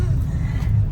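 A car moving along a road gives a steady low engine and road rumble heard from inside the cabin, continuous and fairly loud for a brief moment.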